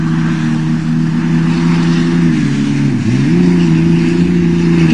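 Ford Ranger, Dakota and Bronco trucks race together, their engines droning loudly and steadily with layered harmonic tones that dip briefly and recover as revs shift, continuous and close with no talking.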